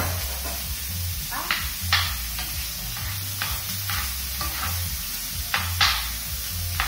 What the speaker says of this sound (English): Go ahead and stir that up.